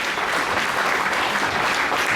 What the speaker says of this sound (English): Give a round of applause for these folks up here